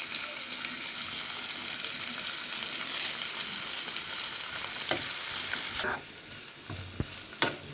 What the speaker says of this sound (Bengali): পেঁয়াজ কুচি মরিচ ভেজে নেব।